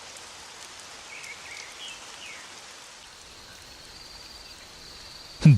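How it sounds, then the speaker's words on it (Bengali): Steady rain falls in a rural farming village during a thunderstorm, heard as a soft, even hiss throughout with faint chirps early on and a sudden low thump at the very end; no one speaks. "বুঝলে গিন্নি, যে বৃষ্টি শুরু হয়েছে তাতে নির্ঘাত নদীর বাঁধ ভেঙে যাবে।"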